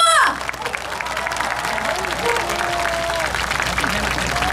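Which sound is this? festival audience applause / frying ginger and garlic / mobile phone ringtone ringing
festival audience applause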